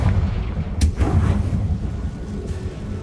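A Confringo fire spell blast from Hogwarts Legacy: a sharp burst near the start followed by a rumbling, crackling explosion that rolls and slowly fades, loud and close.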